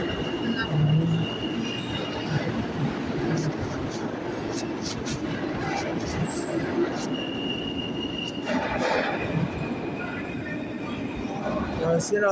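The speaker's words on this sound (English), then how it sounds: "So this train is coming out of service." A New York City subway train coming out of service rumbles loudly and continuously, with wheels squealing and metallic screeches rising over the steady roar throughout.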